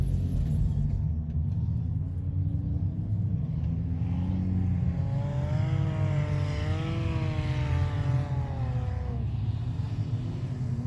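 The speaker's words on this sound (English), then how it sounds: "Demler now 5-6 car lengths ahead of Bobler coming out of the corner" Race cars roar through a six-cylinder non-studded heat on an ice track at Marinette, a steady loud engine drone with rising and falling revs as cars come out of a corner, continuous throughout.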